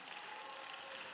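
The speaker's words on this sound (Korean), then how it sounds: "여러분 이럴 때 박수 치는 겁니다." Church congregation at a young adults' Sunday worship service applauding, a steady wash of clapping filling the short moment without speech.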